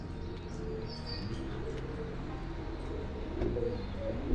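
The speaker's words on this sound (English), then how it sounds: "A lot of pigeons here." Pigeons coo softly along a canal walk, a low murmuring of birds under steady outdoor ambience with a few faint chirps, fairly close and no one talking.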